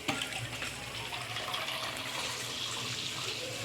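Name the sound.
water being poured into pot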